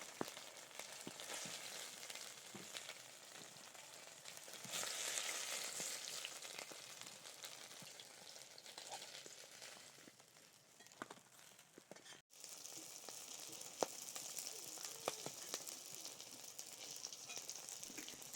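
Pieces of stingray fish fry in oil for a Bengali curry, producing a soft, steady sizzle with scattered pops, fairly faint and interrupted by a brief dropout near the middle.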